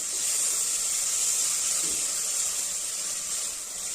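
Chopped tomatoes frying with coriander leaves and salt in a pan for rice bath, giving a steady, even sizzling hiss that holds throughout at close range with no talking.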